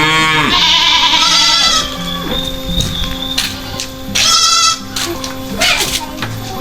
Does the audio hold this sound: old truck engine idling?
no